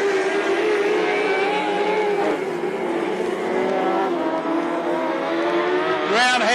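Speedway race cars roar around the dirt oval at Gympie Speedway in a season opener, a loud continuous engine drone with shifting pitch and a rising whine near the end.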